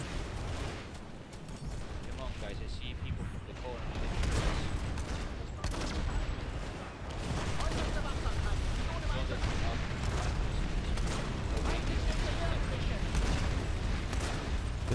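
Near-constant gunfire in the game Planetside 2, dense bursts and booming shots rattling on throughout, with someone talking over the combat.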